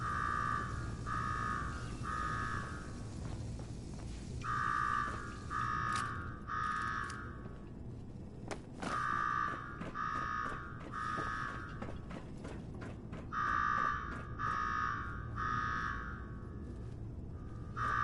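A repeating electronic alarm in the Fallout 4 Nuka-World game bursts out in rapid trains of beeps, pausing between sets, loud over a low mechanical background hum.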